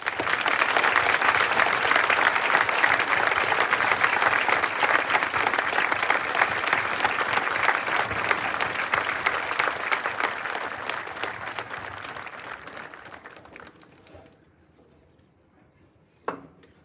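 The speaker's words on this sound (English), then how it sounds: "please join me in applause for our first graduate for the class of 2021" Graduation ceremony audience applauding the first graduate of the class of 2021: a long, loud wash of crowd clapping that gradually fades, ending with a brief thump.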